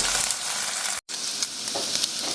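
Chicken fried rice sizzles and crackles steadily, flattened in a hot pan, a bright continuous frying hiss broken by one brief moment of silence.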